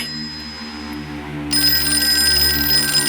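A telephone bell rings as a radio drama sound effect, a continuous bright jangling ring that swells louder halfway through over a low background hum, with no voices.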